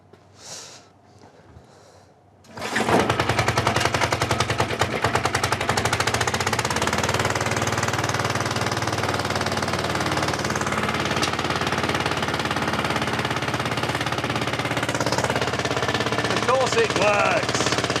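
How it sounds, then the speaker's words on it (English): Vintage petrol lawnmower engine sputters into life after a couple of faint attempts, then runs loud and steady with a rapid rattling, hammering beat close by. "It's a lawnmower."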